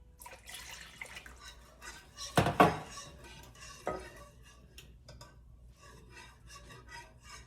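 A spoon stirs homemade mac and cheese in a pot. Soft scraping and rubbing come in quiet, uneven strokes, with one louder clatter of metal against the pot midway.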